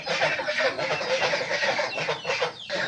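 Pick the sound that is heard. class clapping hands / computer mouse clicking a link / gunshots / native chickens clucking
native chickens clucking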